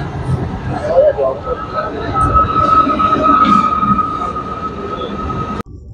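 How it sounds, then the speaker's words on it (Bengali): A passenger train pulls away toward Bandel, heard from inside as a continuous rumble of wheels on rails with a thin metallic squeal running through it and the murmur of people on board. "আমি ট্রেনে উঠে পড়েছি আর ট্রেন ছেড়েও দিয়েছে ব্যান্ডেলের দিকে।"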